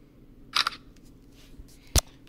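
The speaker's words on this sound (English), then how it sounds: "We are going to take a picture" Shutter click from a Samsung Galaxy Z Fold phone camera snapping a selfie, a short soft click followed by a second sharper click, close by in a quiet room.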